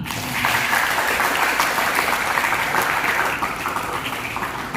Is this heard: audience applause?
yes